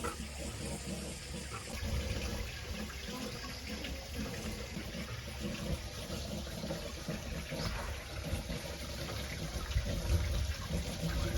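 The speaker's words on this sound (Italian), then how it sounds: "Questo è orologio ad acqua e turbina." Running water from a water clock and turbine in Val Pesarina, a steady moderate gush lasting throughout, with no speech over it.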